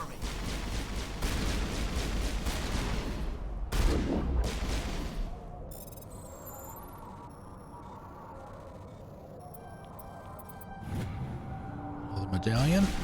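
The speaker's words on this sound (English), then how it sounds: "Hey, stop shooting at me." Heavy gunfire rattles through a firefight in Mass Effect, dense rapid bursts loud in the first half before fading to sparser shots and electronic tones, with a voice speaking over the action.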